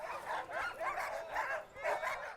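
Sled dogs bark and yip steadily at a dog sled race at La Sarre, several dogs overlapping in a continuous, fairly loud chorus with no one speaking.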